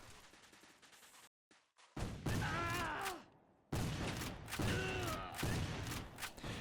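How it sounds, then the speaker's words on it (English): Bursts of rapid gunfire and heavy grenade blasts from the game Civil War: Secret Missions, loud and dense, stopping abruptly for a moment before resuming. "your usual combination of grenades and gunshots"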